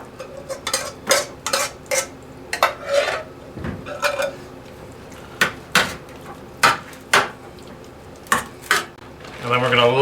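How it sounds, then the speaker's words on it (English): Beans and meat being scraped and spooned into a 9x13 pan, with repeated clinks and scrapes of a utensil against the dish, close and moderately loud, spaced in irregular bursts with a brief voice near the end. "And now into a 9x13 pan we're going to add the beans and meat."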